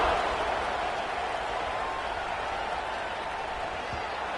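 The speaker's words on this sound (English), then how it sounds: "this crowd is buzzing after that last score" A stadium crowd in the College Football 26 video game keeps up a steady, loud roar for the whole stretch after a score, with no breaks or spikes.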